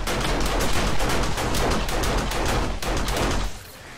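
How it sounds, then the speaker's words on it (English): Rapid, sustained gunfire from a shotgun turret in the video game 7 Days to Die, dense and loud throughout before thinning out near the end. "Look at the shotgun turret getting that guy. Look at it doing its job."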